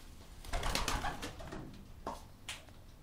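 Racing pigeons in a club loft give soft murmuring coos and rustles, a few brief bursts at moderate distance, with no voices.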